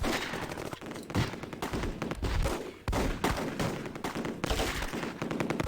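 Gunfire in the World War II tactical game Close Combat, hedgerow fighting: dense, ragged volleys of rifle and machine-gun fire crackling in rapid bursts, with a few heavier thumps and no speech.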